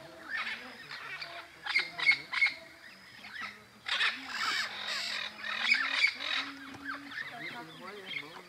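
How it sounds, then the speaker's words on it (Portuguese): Parrots flying over a rural farm toward the forest give harsh, raspy squawks in bursts, several birds calling close together, loud then easing off. "Papagaios, papagaios, tá vendo?"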